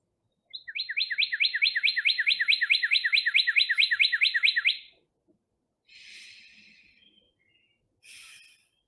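A cardinal sings a rapid run of about two dozen clear, repeated whistled notes for several seconds, loud and close, followed by a couple of short, softer calls after a pause.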